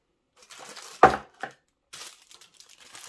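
Paper packaging and warranty leaflets from a TP-Link Archer AX10 router box are handled: quick, close crinkles and rustles, one sharper crumple, then lighter scattered paper rustling.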